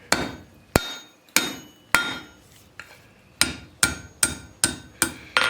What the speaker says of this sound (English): I'm going to put it on the step of the anvil and bend it with the peen of my hammer